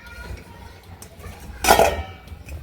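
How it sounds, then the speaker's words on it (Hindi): Dishes are washed in a home kitchen: low water and handling noises, then a loud clatter of pots and utensils knocking together near the end, with no voices. "थोड़े से बर्तन है, ये भी धो लेती हूँ"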